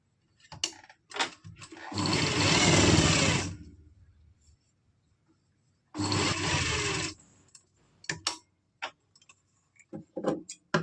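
A sewing machine stitches piping onto the sleeves of an umbrella frock in two bursts of steady, close whirring, with soft clicks and handling sounds of the fabric in between.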